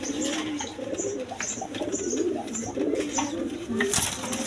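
A pair of big-sized Kalpit pigeons coo repeatedly at close range in a soft, low rhythm, with a little background chatter and a sharper sound near the end.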